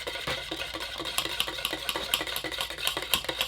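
Primer paint for a 1974 VW Super Beetle pan being mixed, a steady scraping and stirring with rhythmic clicks and knocks repeating about every quarter second, close and fairly loud, no voices.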